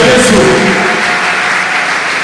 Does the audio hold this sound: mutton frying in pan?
no